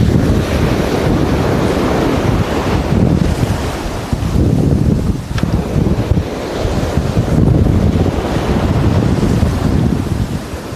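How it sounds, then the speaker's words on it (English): Loud, continuous surf on a beach on the Norfolk coast in November, waves breaking and rushing in a steady roar with heavy wind buffeting the microphone, no voices. "Bloody hell, those waves are noisy."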